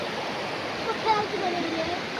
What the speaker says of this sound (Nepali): हामी यो भेरी नदी छेउमा छौँ सुसाउँदै गरेको पानी